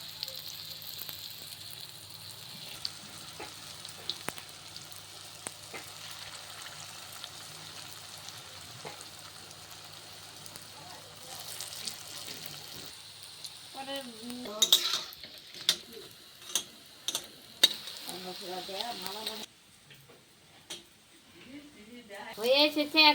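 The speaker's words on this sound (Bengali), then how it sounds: "তেল গরম হয়ে গেছে, এখন দিয়ে দিব আমি ফুলের পাপড়ি মাখানো, এভাবে দিয়ে দেব।" Batter-coated water lily petal pakoras drop into hot oil and fry with a crackling hiss, alongside clinks and scrapes of a utensil against the pan, while a voice talks.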